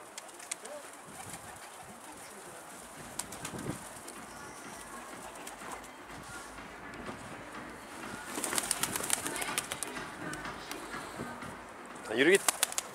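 Pigeons cooing softly in the background, with a burst of flapping wings near the end; outdoor ambience throughout.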